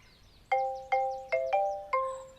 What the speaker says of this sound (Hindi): क्या बज रहा है फोन?